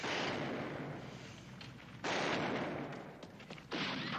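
Dense gunfire rings out in a Western TV shootout, a continuous barrage of shots with two sharp, louder bursts that start fresh volleys, dominating the scene with no voices.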